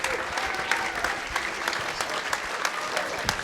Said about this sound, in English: I want to have a big round of applause for our panelists,